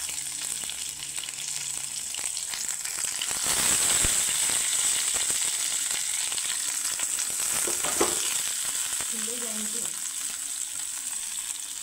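Paneer paturi sizzling steadily as it fries in hot mustard oil in a pan, with a continuous hiss throughout and a few light clinks of utensils near the end.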